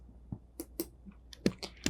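Short bursts of keystrokes on a computer keyboard while text is typed in Photoshop, quiet and close, arriving in small irregular clusters with brief pauses between them.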